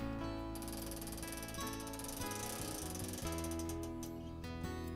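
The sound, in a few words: quilting frame clamps removed, frame advancing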